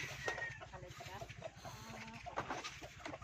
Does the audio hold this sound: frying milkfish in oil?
no